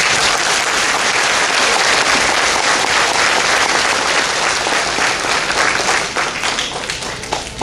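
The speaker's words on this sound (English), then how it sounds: "Give these students a round of applause." Loud, close applause for graduating students at an elementary school graduation, a thick sustained roar of clapping from a large crowd that thins slightly near the end.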